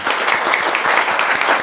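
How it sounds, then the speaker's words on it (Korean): High school students clap for baseball player Ko Hyo-jun after his talk, a thick, steady burst of applause from a room full of people, loud and close with a quick regular patter. "귀한 시간 내주신 우리 다시 한번 교준 선수께 박수 한번."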